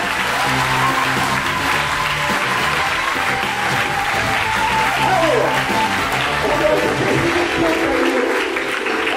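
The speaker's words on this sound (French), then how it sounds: "si on peut les applaudir très fort" A festival evening audience applauding loudly after a performance, the steady clapping of a large crowd filling the space for nine seconds, with faint music or tones underneath.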